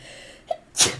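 A single sharp sneeze bursts out near the end, preceded by a short faint intake of breath, heard close and loud in a quiet room during a tabletop role-playing game session.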